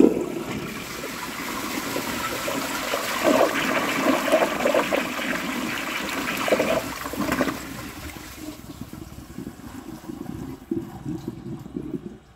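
A 1953 Crane Santon toilet flushing up close, a loud rushing gush of water that holds for several seconds, then settles into a quieter trickle and refill.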